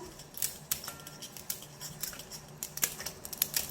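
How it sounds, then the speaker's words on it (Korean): Crisp, sharp snips of kitchen scissors cutting through crab shell, a dozen or so uneven cuts close by, with no talking. "한번 가위가 웬만큼 힘이 있는 가위는 다 이렇게 잘라져"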